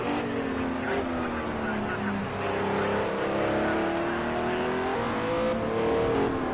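Several GT3 race cars in Project CARS 2 roar through turn 1 at the Nurburgring, engines rising and falling in pitch as they shift and brake, loud and close, layered over one another.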